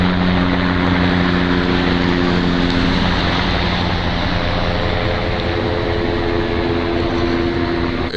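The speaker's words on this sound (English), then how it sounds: "this helicopter going over and over and over and over again." A sheriff's department helicopter circles overhead, its steady rotor thrum and droning engine loud and continuous throughout, with a slight shift in pitch midway as it passes.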